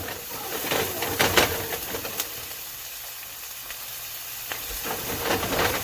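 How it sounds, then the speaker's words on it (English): Onions frying in a pan over medium-high heat, a steady soft sizzle with occasional crackles and stirring scrapes, close and fairly quiet throughout. "add your onions. That's nice, spread them out."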